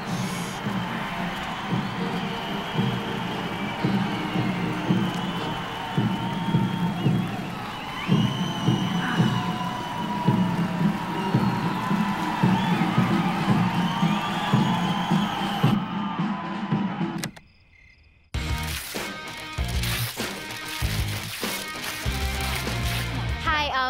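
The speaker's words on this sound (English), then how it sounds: "Hold for laughter and applause from the crowd" A school crowd at a comedy scene cheers and whoops loudly for about fifteen seconds with shouting and clapping, then cuts to near silence before a different busy noisy passage.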